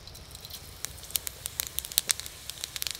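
Panch phoron whole spices hitting hot oil, giving a soft steady sizzle with scattered sharp crackles and pops that grow more frequent toward the end, fairly quiet and with no voices.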